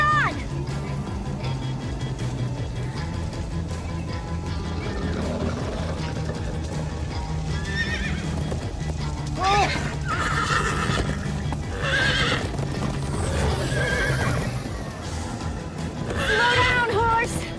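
A horse in the Minecraft Story Mode video game whinnies several times over a constant rumble of galloping hooves and a heavy soundtrack, with short neighs spaced through the run.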